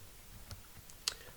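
A few quiet, scattered clicks of a computer keyboard as a short command is typed, ending in one sharper keystroke, all faint and close in a hushed room.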